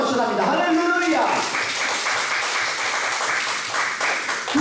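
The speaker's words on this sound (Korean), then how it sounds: "우리 그렇게 하신 주님 앞에 다시 한번 뜨거운 영에 박수합니다" Congregation at a revival service at a prayer retreat in Daejeon applauding loudly, a dense wash of clapping filling the room right after a spoken line, with cheering voices mixed in.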